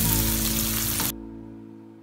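Sliced onions sautéing in hot oil in a pan for Chettinad chicken gravy give a close, loud, steady sizzle that drops away abruptly to a quiet hum after about a second.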